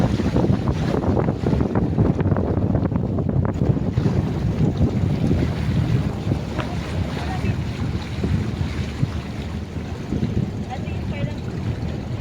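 A small boat travelling on open sea off Burias Island, with a continuous loud engine drone mixed with heavy wind buffeting the microphone and splashing water, while people talk nearby.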